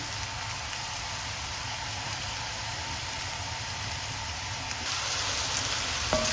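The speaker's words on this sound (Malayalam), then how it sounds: "നല്ലോണം ഞാൻ ഇതൊന്ന് വഴറ്റി എടുക്കാം" Bitter gourd sautéing in hot oil in a pan on a high flame, a steady close sizzle that holds evenly throughout and swells slightly louder near the end, with no talking.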